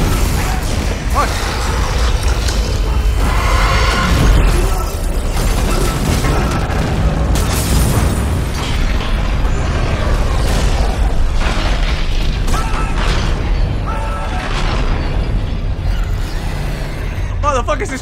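A ship being torn apart by explosions in Dead Space Remake: a continuous loud roar of booms, grinding and bursting debris fills the whole stretch, with a voice shouting over the din.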